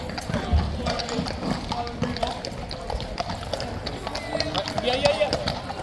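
Hooves of King's Guard troop horses clip-clop in overlapping, uneven beats close by at a mounted competition, while people talk over the steady procession.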